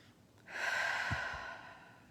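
A single slow, deep breath is drawn and released during a guided meditation, soft and close, fading out after about a second.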